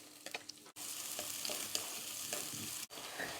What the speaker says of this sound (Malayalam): ഒന്ന് നല്ല പോലെ ചൂടായി വരുമ്പം ചെറിയുള്ളി ഇട്ട് കൊടുക്കണേ.